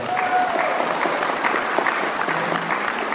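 A crowd applauding at a Kazakh wedding ceremony, a dense, steady burst of many hands clapping close by without music, filling the whole stretch.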